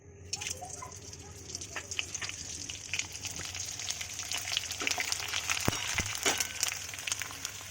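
Bhaji fry in oil in a kadhai on a gas stove, producing a continuous bubbling sizzle that builds slightly over several seconds, with a few sharp clicks and a faint background voice.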